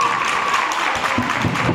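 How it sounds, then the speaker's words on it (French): Spectators in a gym applaud at an under-13 boys' basketball cup final, with a continuous wash of clapping that is loud and even, and a faint steady tone underneath. "Changement du côté de Auch, sous applaudissement s'il vous plaît."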